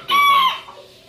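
Dark Brahma chickens, a favourite breed, give a single loud, close cluck-like call lasting about half a second, followed by quieter barnyard noise.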